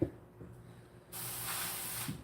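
Spray bottle misting red wiggler worm bedding: a soft hiss that starts partway through and holds steady for about a second, close and fairly quiet, after a few faint handling clicks.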